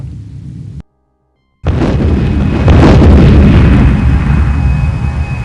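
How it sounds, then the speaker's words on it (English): A cluster bomb hits an oil facility in the Eurofighter EF2000 flight game. A low rumble cuts to a short silence, then a loud, sustained roaring explosion with crackling bursts swells and carries on to the end. "we'll just drop this cluster bomb on this oil facility"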